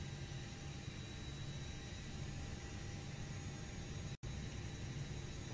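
A320 engine spooling during start in the FSX flight simulator, a steady broadband whooshing roar with faint high whine tones, constant and even, broken by one brief dropout.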